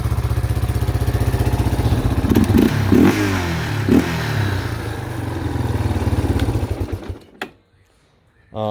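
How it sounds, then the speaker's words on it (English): Yamaha Warrior 350 quad engine running while being ridden, a loud close throbbing idle with rev changes and some clatter, cutting out near the end before restarting, with a voice briefly over it. "This is a really solid running, riding Warrior."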